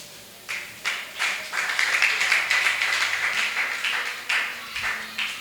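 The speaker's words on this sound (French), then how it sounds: "nous acclamons pour la parole de Dieu" A church congregation bursts into applause for the word of God, a steady wash of many hands clapping with rhythmic swells, moderately close and without any voices.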